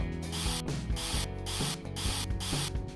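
Hairspray is sprayed onto hair set in waves around a cup, coming as a series of about five short, loud hissing bursts with a ratcheting pump clatter between them, close and rhythmic.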